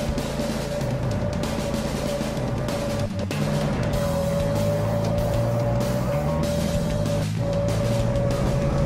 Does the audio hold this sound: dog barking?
no